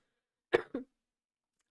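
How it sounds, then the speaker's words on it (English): Two quick, sharp coughs in close succession, close to the listener, with silence around them. "sorry, I'm coughing and I don't smoke"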